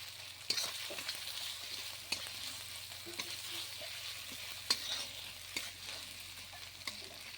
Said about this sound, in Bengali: এখন আমি আদা বাটা দিয়ে দিলাম।